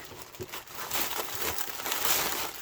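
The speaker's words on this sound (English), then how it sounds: "So it just came in this plastic bag." A plastic bag from a craft supply haul is handled close up, giving a continuous loud crinkling and rustling that swells and eases over a few seconds, with no talking.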